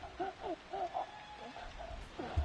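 Eerie wailing in the horror game P.T., a wavering, moaning cry rising and falling in several drawn-out phrases against a dim, hollow background.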